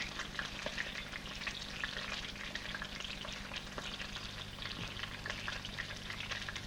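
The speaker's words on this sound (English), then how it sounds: "These wedges will be lightly cooked in butter for the garnish." Apple wedges cook lightly in butter in a pan, giving a steady, soft sizzle and crackle with faint stirring, continuous and close throughout with no talking.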